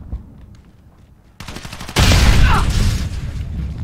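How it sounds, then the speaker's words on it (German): Quiet scattered noises, then a sudden loud blast erupts into a sustained roaring rumble of an in-game explosion in the Call of Duty: Modern Warfare beta on Xbox One X. "Gott, was ist da gerade explodiert?"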